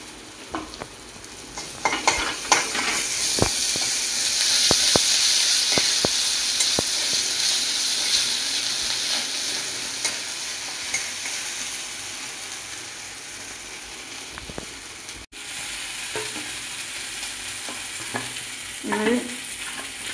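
Spices sizzle in a hot pan while a vegetarian pointed gourd curry is cooked, a steady close frying hiss broken by sharp clicks and scrapes of stirring.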